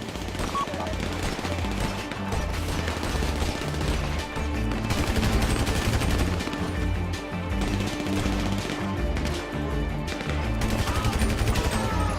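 A mounted machine gun firing in GTA Online, long rapid rhythmic bursts of heavy automatic fire, loud and close, with brief pauses between volleys and a steady low rumble underneath.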